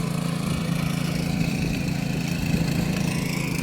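A tractor works a paddy field for planting with a constant throbbing engine hum, fairly loud and unbroken, with no voices over it.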